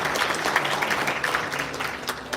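An audience at a launch ceremony in a Korean National Assembly hall applauds a speaker, continuous close clapping throughout a short stretch with no talk over it.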